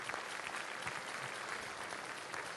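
An audience at the 2013 Coupe du Monde de la Pâtisserie pastry competition claps in a dense, even burst of applause that holds steady, with no voices on top.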